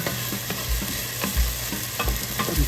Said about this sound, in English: I'm going to use some of this squeezed garlic. I'm probably going to use about that much right there. Just better stir around for about a minute or so.